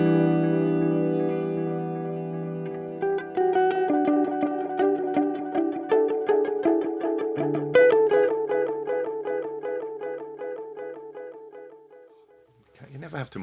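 A synth melody runs through an Erica Synths Echolocator precision delay with modulation, its plucked notes repeating in rhythmic, shimmering echoes that pile up and trail off, up close and without talk.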